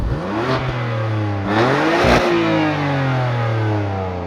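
A loud 2020 BMW M2 CS exhaust heard from outside, revving up and down with deep engine tones that rise and fall over several seconds.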